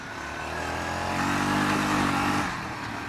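A Yamaha Grizzly 660 quad's engine revs hard on a rough trail, a loud, close, rising mechanical roar that swells to a peak and then eases back to a steady run.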